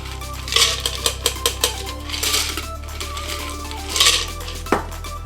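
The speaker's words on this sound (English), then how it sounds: "we're gonna double strain both of these into our cocktail glasses" Cocktails are double strained from a Boston shaker through a Hawthorne strainer and a fine mesh strainer into glasses, with close metallic clinks and taps, a few liquid splashes and a soft steady hum underneath.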